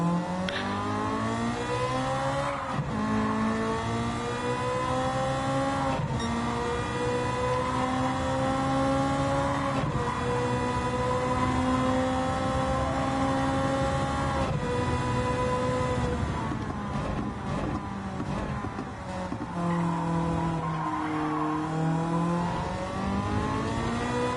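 A Caterham sports car in Gran Turismo 7 revs and accelerates loudly and continuously, its engine note climbing and dropping through repeated gear changes, with a whirring tone and no voices.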